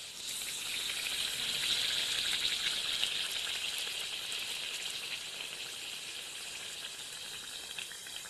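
Mutton vadas frying in hot oil give a steady, bright, crackling sizzle, close and constant throughout, with no voices over it.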